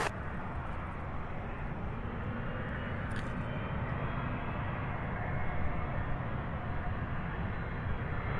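A UPS Boeing 757 taxis at Louisville International Airport, its engines giving a steady loud broadband roar that holds throughout at a moderate distance.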